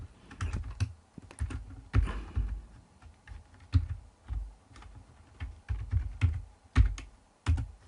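Keys clatter on a computer keyboard in irregular bursts of quick taps with short pauses between, close and fairly quiet, no voices.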